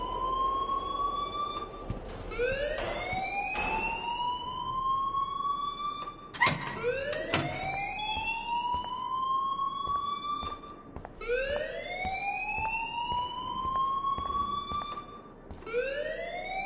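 An alarm blares in the video game Life is Strange, a loud rising siren wail that repeats in regular sweeps with a few clunks between them.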